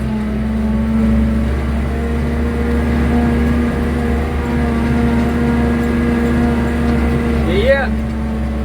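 A tractor pulling a fertilizer spreader works across a field, giving a loud, steady engine drone with a constant low hum throughout and a brief rising whistle near the end.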